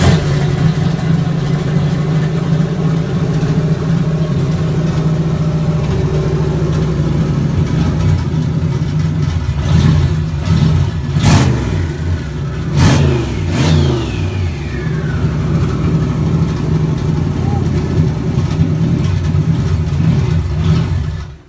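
A Jaguar XJS V12 with its muffler deleted rumbles loudly and close, then is revved hard in several sharp bursts that climb and fall away, with the deep idle holding steady between them.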